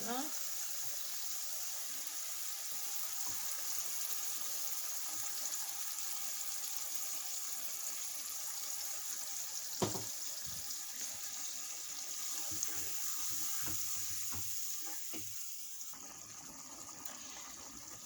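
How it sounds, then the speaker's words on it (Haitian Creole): Coconut milk poured into a cooking pot for rice with green peas, a steady liquid pouring rush that runs for most of the stretch over a simmering background, followed by a few clinks near the end. "Là, on va ajouter le lait de cocoyer."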